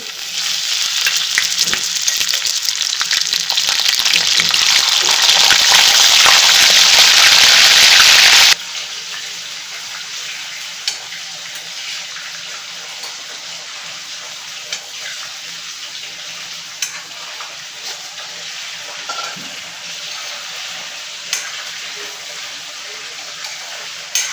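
Chicken pieces for chicken karahi drop into hot oil with whole spices, setting off a loud, dense sizzle for about eight seconds that then settles into a quieter, steady fry with occasional stirring clicks.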